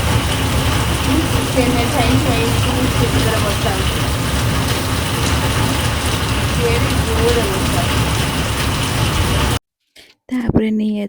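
Rain falls in a steady, close, dense patter during the monsoon for nearly ten seconds, with a low hum beneath it, before cutting off into a few brief knocks.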